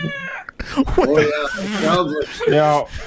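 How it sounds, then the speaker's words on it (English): A cat screams loudly with drawn-out, harmonic yowls that rise and fall across the whole stretch, mixed in with people talking close by. "feed that thing. It's screaming. That's the cat."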